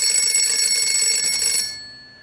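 Telephone ringing in a house in an audio drama, a loud, insistent electronic ring that repeats steadily and then cuts off abruptly, leaving a fading tail into silence.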